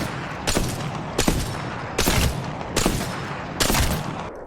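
Repeated gunfire from weapons in the video game Apex Legends, five sharp loud bursts spaced roughly evenly in a shoot-and-pause rhythm, with no talk over it.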